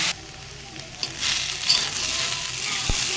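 Potatoes and mixed vegetables sizzle steadily in oil with salt and spices for a vegetarian dish, a soft continuous hiss with a few faint scrapes of stirring, close and unaccompanied by talk.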